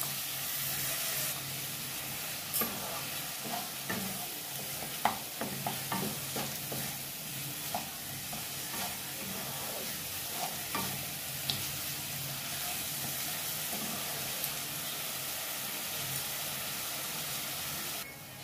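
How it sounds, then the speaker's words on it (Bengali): Ground turmeric, cumin and Kashmiri chilli masala with a splash of water frying in a pan, a steady close sizzle broken by repeated scraping clicks of a spoon stirring throughout, with no talking. "মশলাটা ভালো করে কষা হয়ে গেছে"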